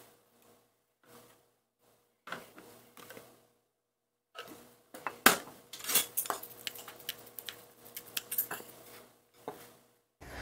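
Mung bean sprouts being seasoned with salt and sesame oil in a bowl, with light scattered clinks and taps of utensils against dishware coming in quiet bursts between silences.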